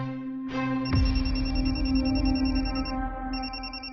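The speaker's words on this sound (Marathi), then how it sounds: "तुझा फोन वाजतोय" A mobile phone ringtone rings at home, a steady electronic melody with bright repeating tones that starts after a brief pause and keeps sounding loudly to the end, with no talking over it.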